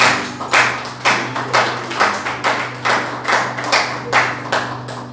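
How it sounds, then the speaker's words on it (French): A church congregation claps in praise during a French-language service, a steady rhythmic beat of about two claps per second over a low hum, with no talking. "Applaudissez pour l'Éternel"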